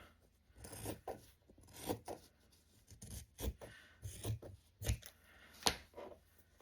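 A fabric scrap painted with watercolour and paint markers being trimmed, heard as a series of soft, close cutting and rubbing strokes at an irregular pace, quiet overall with no talking.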